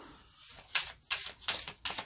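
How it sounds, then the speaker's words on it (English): Several short bursts of a Pathfinder Oracle card deck riffling in an overhand shuffle, four quick rustling passes in a steady rhythm, close and fairly quiet. "Overhand, it seems to shuffle fine."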